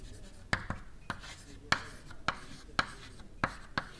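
Chalk tapping and scraping across a lecture blackboard while equations are written out, a steady series of sharp clicks and short strokes at close range, with no talk over it.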